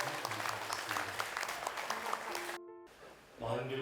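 A crowd at a Korean Buddhist New Year dharma service applauds steadily, a dense wash of clapping that briefly cuts out before resuming, with a voice heard faintly underneath.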